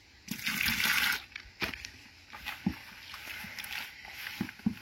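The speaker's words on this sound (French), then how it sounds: "Et ici, je peux encore remettre de l'eau parce qu'elle n'est pas assez mouillée." Water poured from a container into fishing groundbait for bleak fishing, a short gushing splash near the start followed by quieter intermittent trickles and handling noises.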